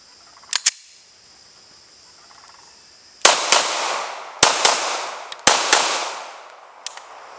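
A Glock 19 Gen 6 pistol fires outdoors in loud, crisp shots with echoing tails: a quick pair, a pause, then a run of shots in uneven pairs, with no talking.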